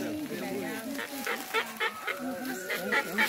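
A person imitates a bird's song with a run of wavering, warbling whistles and calls, sounding close and fairly loud, during an outdoor field class in the Amazon rainforest with other voices faintly around.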